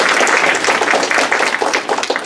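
An audience claps for the mayor at a retirement celebration, a dense, steady burst of many hands applauding nearby that tapers slightly toward the end.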